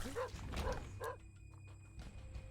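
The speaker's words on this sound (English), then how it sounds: "That was Dogtooth barking, which means there's a crawl space in that room" Dogtooth, a dog in The Binding of Isaac, barks three times in quick succession in the game, followed by quieter game sounds, with no speech.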